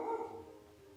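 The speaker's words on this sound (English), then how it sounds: "There goes my dog." A pet dog gives a single short bark somewhere in a room. The bark is brief and moderately loud, and the sound fades quickly afterward.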